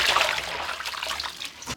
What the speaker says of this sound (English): Now I'm gonna wash the cabbage.